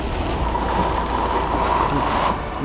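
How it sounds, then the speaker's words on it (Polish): A wall of heavy rain approaches during a violent thunderstorm over the Lublin region in Poland, a steady dense broadband roar of rain and wind, loud and continuous with no voices. "Ale idzie ściana deszczu."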